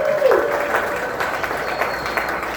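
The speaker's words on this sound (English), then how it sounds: "Give yourself a round of applause." A comedy club crowd claps for itself at a host's urging, a dense, steady round of applause with a few voices mixed in, continuous and fairly loud across the clip.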